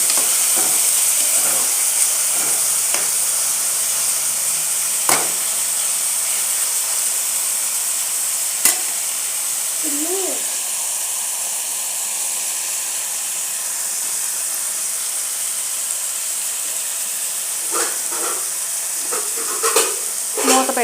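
Onion and tomato pieces fry in a pan, a soft continuous hiss and sizzle with a few sharp scrapes and taps of the spoon as they are stirred, fairly quiet, with no talking.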